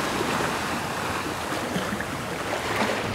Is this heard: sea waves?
yes